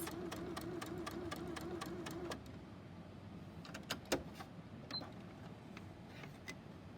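A sewing machine slowly stitches mitten pieces with dove gray thread at a 1.8 stitch length, giving faint, evenly spaced ticking stitches that fade into quieter, sparser clicks, with no talking.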